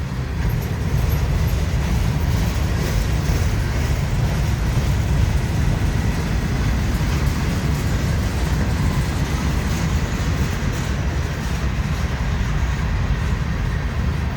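A very long freight train rolls past near Wartrace, Tennessee, with a continuous loud low rumble and steady clatter of wagons throughout, close by and unbroken.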